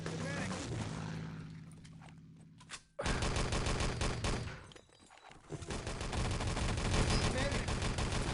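Video game match gunfire, a pistol firing in quick rapid strings with a brief lull in the middle, heard under a caster's fast commentary.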